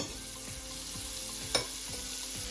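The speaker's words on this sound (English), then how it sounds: "Lamb chops straight in the pan" Lamb cutlets fry in a pan with lots of butter, giving a steady close sizzle with a few soft crackles and one sharp pop midway, no voices over it.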